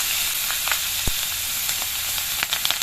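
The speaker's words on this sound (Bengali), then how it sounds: "মাছগুলোকে ভেজে নেওয়ার পর এর মধ্যে দিয়ে দিচ্ছি কালো জিরে, 4টে চেরা কাঁচা লঙ্কা।" Black cumin seeds and slit green chillies crackle in hot oil left from frying hilsa fish, a steady close sizzle with sparse pops and one sharp spatter, no voices.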